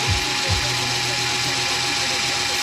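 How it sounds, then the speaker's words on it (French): Drilling into a part on a Yamaha Blaster quad: a steady, loud, broadband drill whine runs the whole time, close up, with a couple of low thumps near the start. "je vais la percer là"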